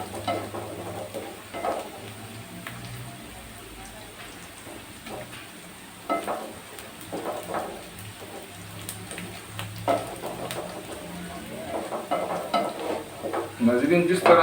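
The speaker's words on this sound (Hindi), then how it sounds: "इसको थोड़ा सा इसमें भूनेंगे ताकि इसके अच्छे तरीके से इसका जायका आ जाए" Crushed garlic frying in a pan for an arbi (taro root) masala curry, a low sizzle with intermittent stirring scrapes that grow busier and louder toward the end, with no voice over it.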